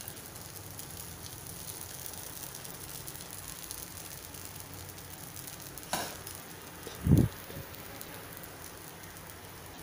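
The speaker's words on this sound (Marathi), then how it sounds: "आता आपल्याला हा मध्यम गॅसवर, गॅस मी मध्यम करते, छान खालून असं लालसर होईपर्यंत भाजून घ्यायचं आहे" Masala dosa batter spread thin on a tawa over medium gas gives a soft, steady sizzle throughout, with a faint tap and a brief louder clatter near the end.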